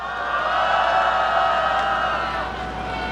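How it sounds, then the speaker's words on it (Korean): A crowd at an evening citizens' candlelight rally applauds and shouts in a sustained, loud roar of clapping and cheering that fades slightly at the end. "뜨거운 박수 함성 부탁드리겠습니다"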